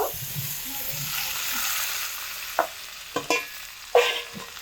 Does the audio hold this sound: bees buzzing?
no